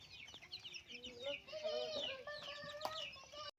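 Fayoumi chickens, 47-day-old chicks, cluck softly in a string of short, overlapping calls, fairly quiet against a low background.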